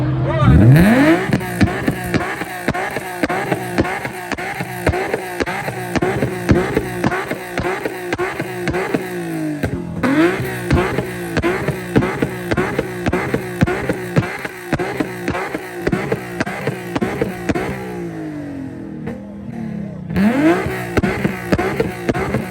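A white car launching from a street race start at a car meet, loud engine revving with repeated rising acceleration sweeps and gear changes running continuously and close by, a brief shout over it.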